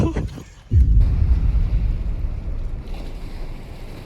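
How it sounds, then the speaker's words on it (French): Rough sea waves pounding during a typhoon, a heavy low roar of surf that swells suddenly and rumbles on with strong wind buffeting the microphone. "On a un niveau de mer qui est quand même plutôt agité là."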